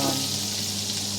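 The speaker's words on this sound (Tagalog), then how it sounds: "Ilalagay ko na yung ating garlic. And then guys, yung onion." Garlic and onion fry in melted butter for sotanghon, giving a brief, dense, continuous sizzle close to the pan.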